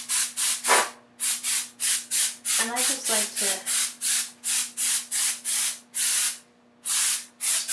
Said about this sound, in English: now I'm going to use some canned air.